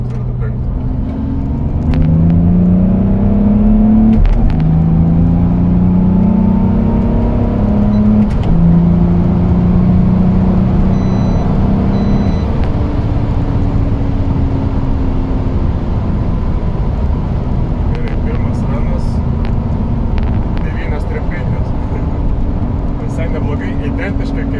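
BMW E46 engine revving hard and accelerating on a dyno, a loud continuous drone whose pitch climbs through the rev range, with people talking over it.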